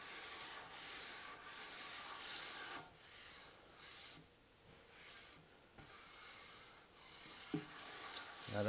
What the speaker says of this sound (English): all I'm looking to do is take the little dust nibs out so there's no pressure at all on this sanding